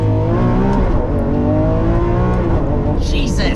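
Lamborghini Countach engine pulling hard under acceleration, a loud, continuous rising roar with gear-change breaks and a faint voice underneath.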